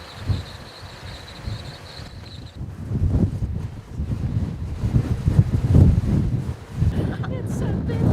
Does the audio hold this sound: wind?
yes